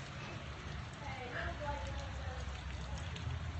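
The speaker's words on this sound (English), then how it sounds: "The rain is crazy" Heavy rain pours on a flooding backyard in Atlanta, a steady hiss of falling water and runoff that holds constant at moderate distance, with people talking over it.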